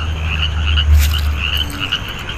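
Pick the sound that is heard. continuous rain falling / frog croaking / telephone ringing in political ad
frog croaking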